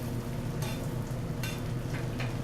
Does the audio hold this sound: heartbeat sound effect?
no